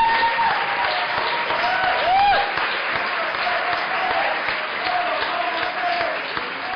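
Warm applause and ovation greet an actor at a tribute during the Morelia International Film Festival, a dense, steady wash of clapping from a large crowd with faint voices underneath, holding level throughout.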